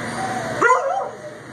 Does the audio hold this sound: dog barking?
yes